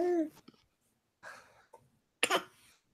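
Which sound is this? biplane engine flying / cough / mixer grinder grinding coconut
cough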